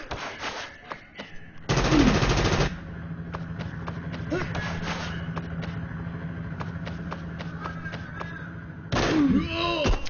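Gunfire in the Frontline Tactics video game, with a dense run of sharp shots and two heavier, louder bursts near the start and end of the exchange.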